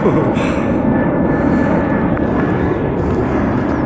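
A Boeing 737-800 climbing out close to Liverpool airport, giving a loud, steady jet-engine roar that fills the whole stretch without letup, with no voices over it.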